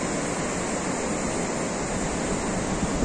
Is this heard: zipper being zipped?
no